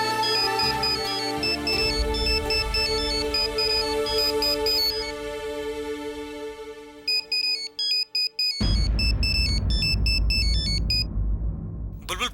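A mobile phone rings with a loud, bright melodic ringtone repeating its tune for several seconds during a Telugu TV drama scene, then switches to choppier tones over a sudden wash of background noise.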